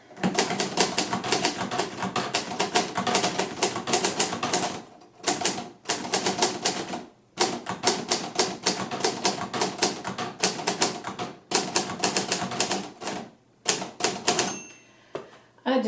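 Fast typing on a Hermes 3000 manual typewriter, dense rapid keystroke clatter in long bursts broken by short pauses, loud and close throughout.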